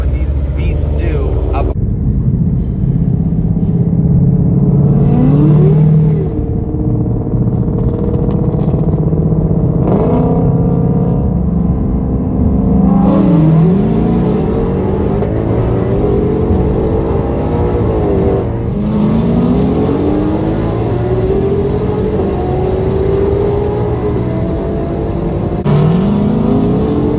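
A cammed Corvette ZR1 and a tuned 2020 Shelby GT500 accelerate hard, their engines climbing through repeated rising revs with shifts between gears, loud and close, with some voices under the engine noise.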